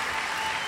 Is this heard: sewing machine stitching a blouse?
no